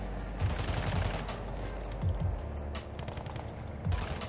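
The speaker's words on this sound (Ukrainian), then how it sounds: "Вон кудись бот стріляє." Gunfire from computer-controlled enemies in Call of Duty Modern Warfare II Warzone 2.0 DMZ, several short bursts of shots at a moderate distance over steady game ambience, with no talk.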